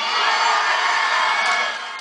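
A large political rally crowd of about 25,000 people roars and cheers in a dense, steady wash of sound that fills the whole moment, with no single voice standing out.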